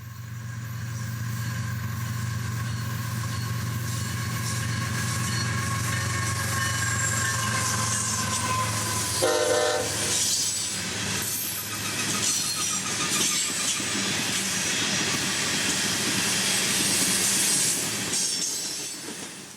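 A CSX freight train rumbles past steadily in Central Florida with clattering wheels and metallic squeals, loud and continuous throughout, with no clear horn blast standing out.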